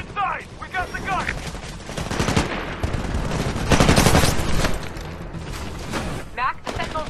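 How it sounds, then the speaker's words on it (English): Rapid bursts of automatic gunfire fired at Titans fill a Titanfall battle, loud and continuous over a dense din of explosions and combat noise, with voices shouting in the mix. "Why are some of the guys shooting at Titans with bullets?"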